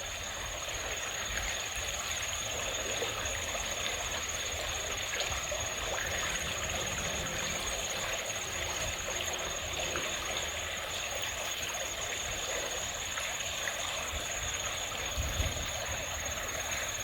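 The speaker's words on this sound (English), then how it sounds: "Always running water." Running water of a stream at Leon Sinks Geological Area, a steady, even trickle and rush heard from an overlook that holds constant throughout with no talk over it.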